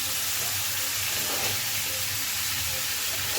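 Jackfruit and prawns are stir-fried with spices in a pan, giving a continuous loud hiss and sizzle with a low steady rumble beneath and soft stirring.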